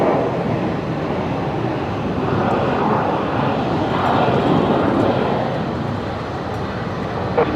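Jet airliner on landing approach at Brisbane Airport, a steady broad engine roar held at even loudness throughout, with no voices.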